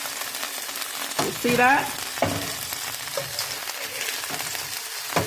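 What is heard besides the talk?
white fish searing in a pan after being flipped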